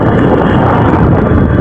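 Loud, continuous wind rushes across the microphone in a dense, unbroken roar for the whole moment, outdoors by rice fields.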